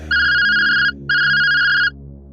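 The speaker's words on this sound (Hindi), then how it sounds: "तभी सुरेखा का फोन आता है।" A phone ringtone rings loudly twice in a haunted-house story: two even electronic tone bursts of under a second each, separated by a short gap, standing alone with no talk.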